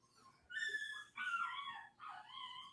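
A dog whimpering indoors, three drawn-out high whines in a row, each rising then sliding down, fairly near and alone without talk.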